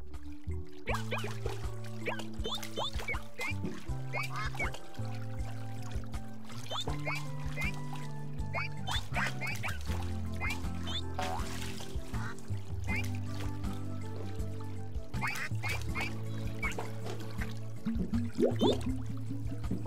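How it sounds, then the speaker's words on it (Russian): Rubber ducks in the video game Asura's Wrath give repeated quacks and squeaks with splashing water over steady game music, the sounds spread through the whole stretch. "Поплыли уточки!"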